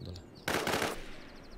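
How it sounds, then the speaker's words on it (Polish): Automatic gunfire in the survival shooter game Infestation: Survivor Stories, a loud rapid burst lasting about half a second, following quieter ambient game sound. "pierwsze dwa strzały jakby troszkę szybciej poszły"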